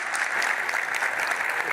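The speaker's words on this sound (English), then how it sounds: "Big applause." Audience applause in a congress auditorium, a short burst of dense, even clapping from a large seated crowd, steady and fairly loud for under two seconds.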